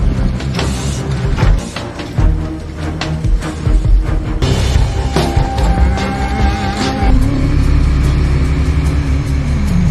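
Money transport truck driving out of a casino building, its engine rumbling and revving loudly with mechanical clunks and a rising whine, close and continuous throughout.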